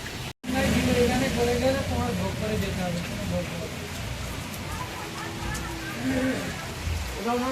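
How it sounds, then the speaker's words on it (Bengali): Heavy rain falls outdoors in a steady, soft hiss, with a person speaking over it through most of the stretch. "বৃষ্টি নামলো খুব জোরেই"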